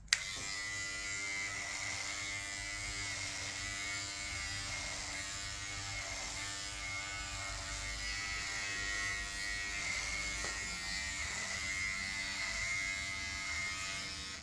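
Electric hair clippers fitted with a 3mm guard cut hair during a sports cut, giving a steady, close mechanical buzz that runs unbroken throughout with slight swells as the blade moves through the hair.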